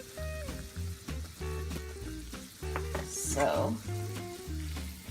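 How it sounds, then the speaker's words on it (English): A flour roux bubbles and sizzles in lard over medium heat, with stirring strokes scraping the pan close by and a short spoken word near the start. Music plays steadily underneath. "we're just going to stir it with the lard"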